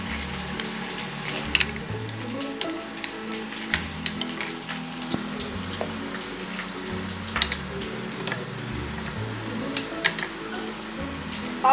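Sliced onions fry in a pan for chicken do pyaza, giving a steady close crackling sizzle dotted with sharp pops and ticks throughout, over a soft low tonal background.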